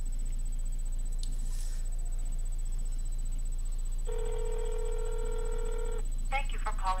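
A telephone tone sounds alone for about two seconds, followed by a quick burst of dialing tones, over a low steady hum and faint background noise while a call to Seagate Technology is placed.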